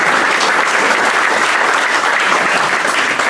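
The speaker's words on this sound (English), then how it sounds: "we're going to applaud Charlie" A Rotary club meeting audience applauds Charlie right after a birthday greeting, a loud continuous wash of clapping from many people that holds steady throughout.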